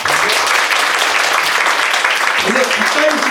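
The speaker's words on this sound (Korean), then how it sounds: "박수 한번." A church gathering's audience claps steadily and loudly throughout, dense applause with a few voices rising near the end.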